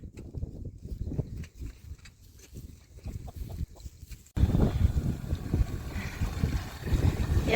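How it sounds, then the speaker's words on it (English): Strong outdoor wind buffets and rumbles against the microphone in gusts, growing louder and more constant partway through, with farm-animal sounds faintly mixed in. "The wind has been crazy."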